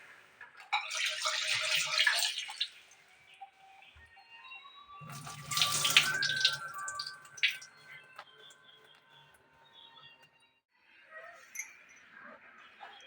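Chicken is washed under a running tap, with bursts of gushing, splashing water separated by quieter gaps and small handling noises.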